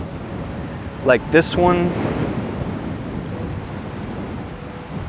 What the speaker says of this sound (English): This wind's not making it any easier.